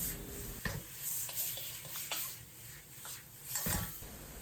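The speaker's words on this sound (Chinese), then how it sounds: "炒好以后放入西葫芦，简单翻炒扒拉1-2下" Zucchini and diced tomatoes stir-fried in a wok give faint scraping stirs and a soft sizzle, a few spatula strokes over a quiet, steady hiss.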